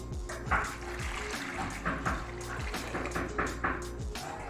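Water is poured into a kadhai holding drained, soaked chana dal, a close splashing trickle with a few bursts, and someone talks over it.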